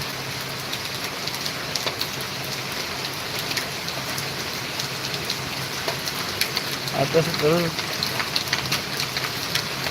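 Heavy rain picks up again in Solapur, a loud, continuous wash of falling drops and surface splatter that fills the scene, with a brief voice speaking over it near the end.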